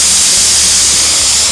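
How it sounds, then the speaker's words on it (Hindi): A pressure cooker on a gas stove blasts its whistle while cooking Gujarati khatti meethi dal, a loud, continuous steamy hiss filling the whole moment. "हमारी सीटी बजने की अब तैयारी हो गई है।"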